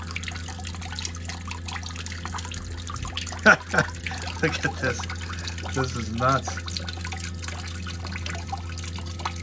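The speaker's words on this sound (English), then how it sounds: "I never realized how much condensate a mini split makes when it's in heating mode." Defrost condensate trickles and drips from an inverter mini split heat pump running in heating mode outdoors, a faint steady dribble over a low hum, with someone briefly speaking nearby.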